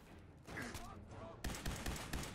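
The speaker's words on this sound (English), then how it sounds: "I like the sound it makes when I shoot the laser gun" Rapid laser gun shots fired in the video game Fallout 4 crackle out in a quick burst, loud and close, with a brief in-game voice just before.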